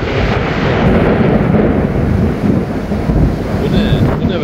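A sudden thunderstorm in Izmir with strong wind batters the microphone in a loud, continuous roar and rumble, with no quiet gaps.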